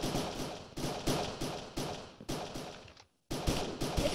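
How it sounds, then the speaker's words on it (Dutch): Bursts of Minecraft gunfire ring out in quick successive volleys, loud and close, with a brief silent gap before another burst. "Je hoort hier allemaal schoten!"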